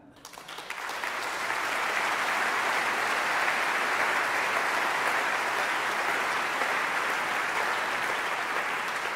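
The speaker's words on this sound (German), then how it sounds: "Applaus" Sustained applause from an opera gala audience swells within the first second and holds as a dense, steady wash of clapping with no speech.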